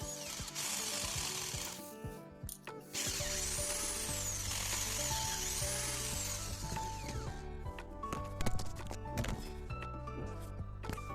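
Screws being undone from the housing of a broken Makita 10mm drill during a repair, giving faint continuous scraping, clicking and ratcheting noises up close with small metallic taps and no talking.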